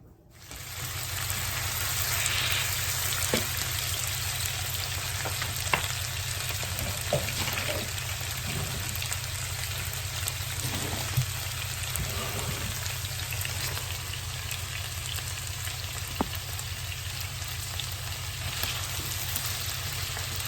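Sausage and chicken sizzle in a hot pan for a mixed grill, a steady close frying hiss with occasional faint pops and clinks, no talking.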